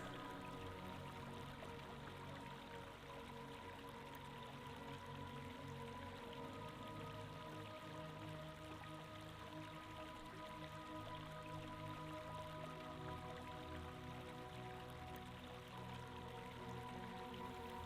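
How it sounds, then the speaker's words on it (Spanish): A steady, quiet stream flows continuously, with faint rustling of leaves mixed into the constant watery wash. "el sonido del arroyo y el murmullo de las hojas"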